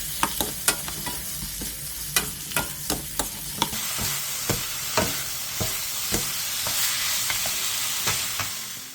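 Sliced onion stir-frying over medium heat in an oiled pan with minced garlic, oyster sauce and salt, a rhythmic series of spatula knocks and scrapes over a hiss that grows into a sustained sizzle.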